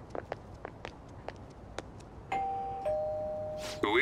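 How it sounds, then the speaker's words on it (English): A doorbell chime rings inside a house in the video game Persona 5 Royal, a clear two-tone electronic ding-dong after a few soft footsteps, followed by a brief rising tone. "You ring the bell."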